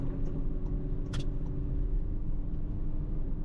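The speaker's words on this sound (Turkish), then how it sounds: "Çok bağırıyor arkadaşlar araba." A VW Transporter van's engine drones loudly and steadily at highway speed in fourth gear, heard from inside the cabin as a constant low rumble with road noise and no talking.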